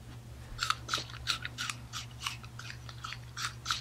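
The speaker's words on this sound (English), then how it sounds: "If you prefer slicing your watermelon, this is how you could cut it instead." A knife slices through a watermelon in a string of faint, crisp crunching cuts, close and quiet, with no voices.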